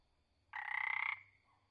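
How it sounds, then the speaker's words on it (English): One buzzy, rapidly pulsed croak from a barred leaf frog lasts roughly two-thirds of a second, nearby and distinct over a quiet background. "Barred leaf frog."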